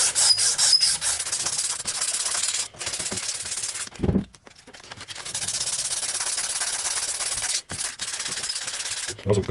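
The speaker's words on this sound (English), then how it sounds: "A little bit of the sandpaper to cut it. I think 800 is fine." Sandpaper of 800 grit rubbing over the bearing housing of a Honda Sportrax 300EX quad's rear suspension carrier, giving a steady close scratchy hiss in long back-and-forth strokes with a brief pause midway.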